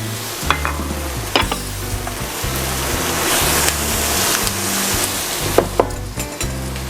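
Milkfish frying in a pan with spring onion, a loud continuous sizzle with stirring scrapes and occasional utensil knocks, close to the pan.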